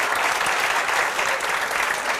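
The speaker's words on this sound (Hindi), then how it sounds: "ताली बजाओ इस बात पर।" Applause from an indoor audience, a dense, steady patter of many hands clapping together throughout, fairly loud and with no talk over it.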